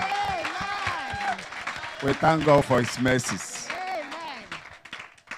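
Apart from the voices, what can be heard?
church congregation clapping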